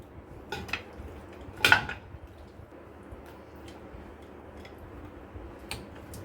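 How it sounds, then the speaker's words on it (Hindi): Pieces of mutton drop into a large pan or kadai for Peshawari namkeen gosht. There are a few soft clinks and one sharper clatter of meat and metal in a quiet kitchen, with no talking. "तो यहाँ पर हम लेंगे एक बड़ा सा पैन या कढ़ाई, जिसमें भी आप बनाना चाहते हैं। इसमें हम गोश्त डाल देंगे।"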